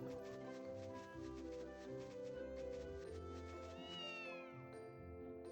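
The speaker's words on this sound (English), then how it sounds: "I like you, cat." A cat meowing in the game Ys 1, a clear, drawn-out meow rising and falling over sustained background game music, with no talking.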